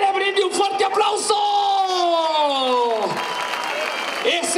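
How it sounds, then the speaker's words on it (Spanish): A crowd at a bullring bursts into applause as a bull is celebrated, clapping mixed with loud whoops and a long sustained shout from nearby voices over the ongoing noise. "quiero que todo el público que hoy lo vio jugar me le brinde un fuerte aplauso"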